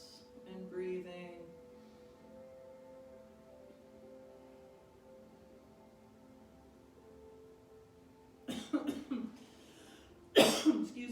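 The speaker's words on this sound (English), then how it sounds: "This makes me cough a little if I get kind of deep into the twist." A few short coughs break out near the end during a beginner yoga twist, close and fairly loud after a long quiet stretch with low background hum.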